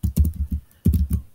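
Keystrokes on a computer keyboard while setting up software, coming in two short bursts of close, fairly loud tapping separated by a brief pause.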